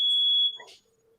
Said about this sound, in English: Is that a smoke detector? Yeah, it was a smoke detector.